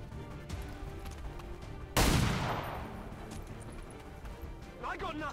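Gunfire in the turn-based tactics game XCOM 2: one sudden loud shot or blast with a long decaying tail rises over quiet background music, followed by faint sounds near the end.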